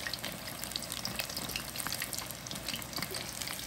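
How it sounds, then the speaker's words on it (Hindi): Chicken pieces fry in hot oil with a steady, dense crackling sizzle, close up and continuous, with no voices. "उसको यहाँ तक फ्राई कर लें ताकि गोल्डन कलर आ जाए इसका"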